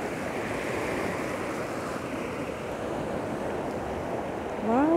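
Sea waves wash over bare feet at the beach, a steady close rush of surf and foaming water with wind noise on the microphone, building slightly louder at the very end.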